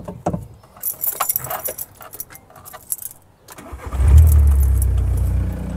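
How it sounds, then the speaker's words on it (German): Keys jangle and rattle near a VW T3 bus camper van for a few seconds, then the engine cranks and catches, settling into a loud, steady idle rumble. "Also, ich mache den Wagen an"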